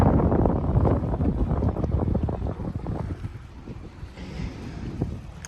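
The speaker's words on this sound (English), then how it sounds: "Hopefully this wind isn't gonna be too bad out there." Steady, loud wind buffets the microphone aboard a 53-foot Carver yacht under way from Annapolis, a continuous low roar and rumble that eases slightly toward the end.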